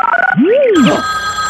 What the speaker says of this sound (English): One ring. That's a telephone.